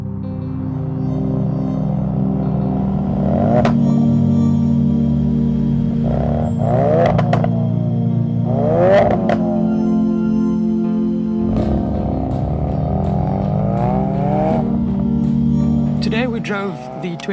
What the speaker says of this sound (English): Drove the 2017 Ford Focus RS, and wow, was it a car.